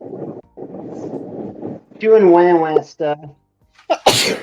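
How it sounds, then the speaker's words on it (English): Someone talks briefly, then lets out a single sharp, close sneeze near the end, after some earlier rustling noise. "I'm going to sneeze now."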